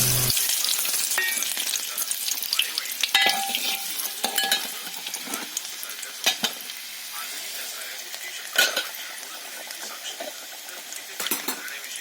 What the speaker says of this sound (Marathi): आता मी बनवते आहे शेपूची भाजी